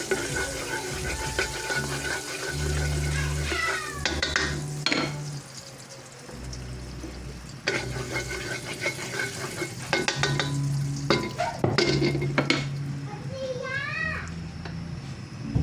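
Margarine melts and sizzles in a heated pan, a continuous close frying hiss broken by scraping and stirring clatter against the pan, with people talking over it at times.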